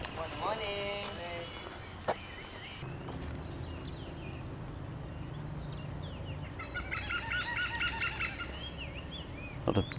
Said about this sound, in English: A lot of bird noises.